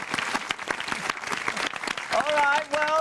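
A studio audience claps on a live television variety show, a short burst of applause mixed with cheering voices, and a tonal musical sting rises near the end.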